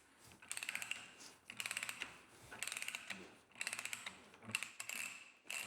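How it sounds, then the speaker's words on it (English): Threading die being wound back off low carbon steel, quiet bursts of fast ratcheting clicks in several separate spells, close up, with short pauses between. "And then I come back off the thread that I've just made."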